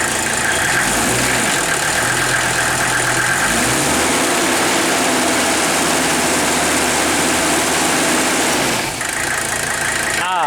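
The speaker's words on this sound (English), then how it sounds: "this engine sounds amazing. Here, we'll give her a little gas" A Mercedes 300SD turbo diesel engine idles with a steady, loud clatter close by, then is briefly revved with a little gas before settling back; no talk is heard over the engine.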